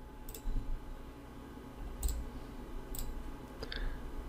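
Several crisp, close computer mouse clicks, spaced irregularly and ending in a quick double click, over a faint steady room hum with no talking.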